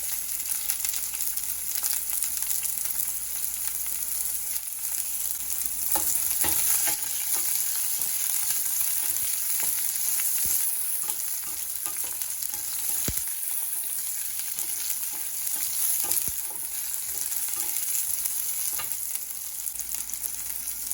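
Carrot sizzles steadily in a hot pan while cooking for sambar, with scattered scraping clicks from a utensil stirring it and no voices over the continuous frying.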